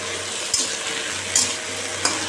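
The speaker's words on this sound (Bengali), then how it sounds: "এখন করছি কুমড়ো ঢেঁড়স ভাজা।" Pumpkin and okra fry in a pan with a steady close sizzle, broken by three brief louder bursts as the vegetables are stirred.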